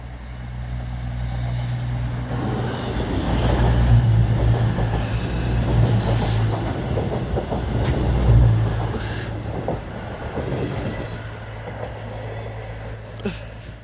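A CrossCountry passenger train running from Bournemouth to Birmingham passes by in southern England, a low rumbling engine and wheel roar that builds, peaks and fades with steady rail noise.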